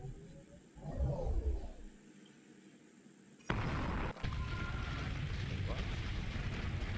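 Fire being shot in VRChat: a sudden loud roaring whoosh bursts in partway through and keeps blasting steadily, after an earlier rumble and a quiet stretch.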